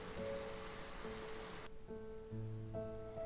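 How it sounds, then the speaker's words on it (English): Rain beats steadily against windows at night as a north wind blows, a dense wash of patter that cuts off abruptly midway, leaving faint tonal background sounds. "The rain still beat against the windows."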